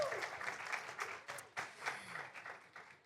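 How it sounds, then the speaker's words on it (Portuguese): Applause from an audience at a panel discussion, a fairly quiet spread of clapping hands heard from a distance, rising and falling unevenly over a few seconds. "Uma salva de palmas para Dandara, por favor"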